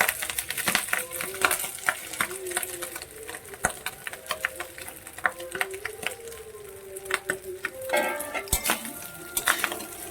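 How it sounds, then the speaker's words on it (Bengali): Ghee-coated rice stirred in a pan, giving continuous scraping and gritty rattling with irregular clinks of a spoon against metal, close and fairly loud. "এর ভেতরে ঘি দিয়ে মাখানো চালটা আমি এবার দিয়ে দেব।"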